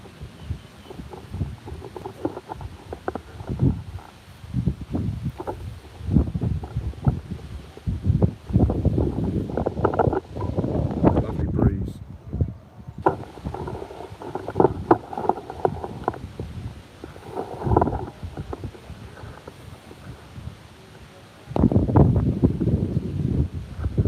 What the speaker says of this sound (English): I think the wind is still blowing on